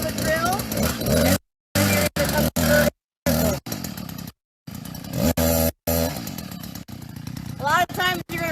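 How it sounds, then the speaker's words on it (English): A power auger revs and drills into hillside soil for planting, its loud engine whine rising and dropping in bursts with abrupt cutoffs, with a person talking over it. "So set your auger in. On a hill, you're going to come a little bit further out. Start a little bit of a drill."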